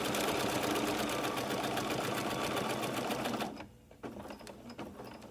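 A sewing machine stitches a welt pocket on a jacket, its rapid steady needle rattle running loud and close for about three and a half seconds before stopping, followed by a few faint handling clicks.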